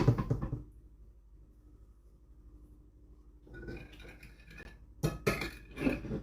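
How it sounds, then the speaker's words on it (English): A whisk clinks briskly against a bowl, mixing teriyaki marinade for oven-roasted salmon; quiet at first, then close and fairly loud metallic tapping toward the end, with no talking. "we're just giving it a little whisk here"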